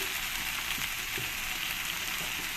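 Tomato frying with spices in a pan gives a steady, even sizzle at moderate loudness, with a couple of soft stirring knocks and no voices.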